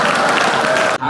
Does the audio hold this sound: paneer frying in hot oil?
no